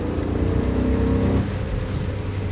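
A BMW E39 M5 pulls hard in third gear from about 3,000 rpm on a rainy road, its engine drone loud and steady, then dropping in pitch, with rain noise underneath.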